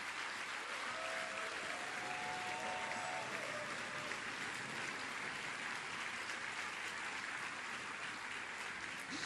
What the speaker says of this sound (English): I'd like for us to give a resounding applause for Dr. Mrs.